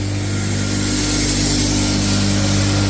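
A hammer mill grinds animal feed into fine powder, with hammers swinging inside a screen, giving a loud, steady mechanical roar and whine that runs unbroken throughout with no talk.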